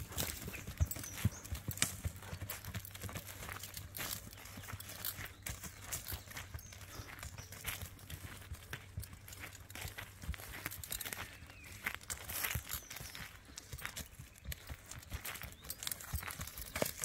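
Hooves of a tame criollo horse clip-clop at a steady walking rhythm throughout, faint and somewhat distant over a low background hum.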